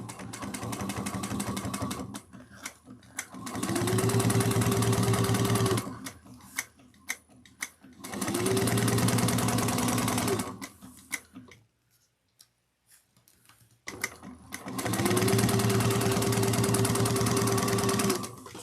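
A sewing machine top-stitches along a zipper on a train case, running in three sustained whirring bursts separated by pauses filled with small clicks and handling noises.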